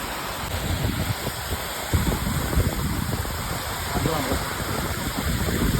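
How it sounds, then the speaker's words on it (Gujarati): Heavy rain pours down in a steady, dense roar that fills the whole stretch, with a slightly louder burst about two seconds in; no voices stand out above the downpour. "તમે જોવો તો ખરા વરસાદ કેવો આવે છે"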